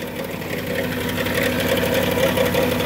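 A Dodge Grand Caravan 3.6 engine idles with a steady, close mechanical rattle, an even ticking clatter over a constant hum with no speech.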